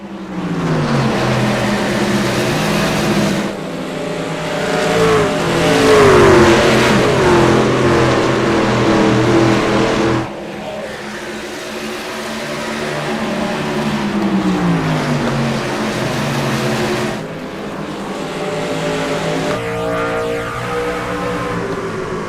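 Race car engines in a sim racing video game at Phoenix Raceway, heard from the virtual cockpit, roar loudly and continuously, rising and falling in pitch through gear changes and acceleration with no talk over them.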